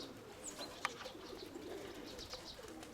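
Pigeons coo softly at a distance, with a faint low warble and a brief chirp against quiet background noise.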